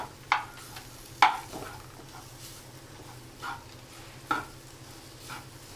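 Sliced onion being stirred into beef frying in a pan, a soft low sizzle broken by several distinct scraping clacks of the spoon against the pan, quiet and close, no one speaking.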